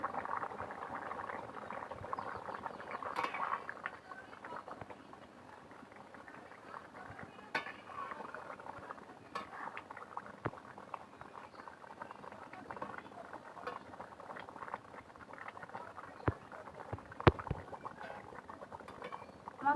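Rui fish curry with spinach and cauliflower simmering in a covered pan, a soft bubbling patter with faint clicks and small pot knocks, close but quiet and unbroken.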